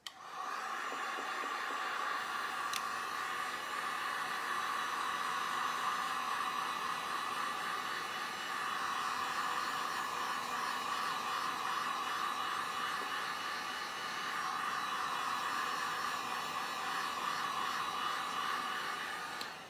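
Heat gun or hair dryer blowing on gooey, tacky resin poured over a surfboard, a continuous close whooshing roar that swells and eases slightly as it moves, with no talking.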